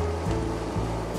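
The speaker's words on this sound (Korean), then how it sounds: "이 폭포 소리가 너무 시원하고 좋죠" Rushing water from the waterfall in front of Jakcheonjeong pavilion at Jakgwaecheon stream below Ganwolsan, Ulsan, a steady broad wash with a low rumble running throughout at close range.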